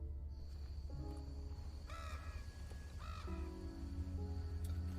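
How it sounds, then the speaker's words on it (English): A crow caws twice in the background of a RWBY animated episode scene, the harsh calls standing out over a steady low music and ambience bed with no talk. "I hear that crow in the background."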